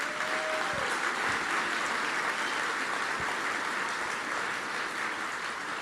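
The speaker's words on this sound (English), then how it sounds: "Let's give them a round of applause." A San Antonio mayoral debate audience applauds the two candidates, a dense, steady wash of clapping from a large room that holds evenly for several seconds without fading.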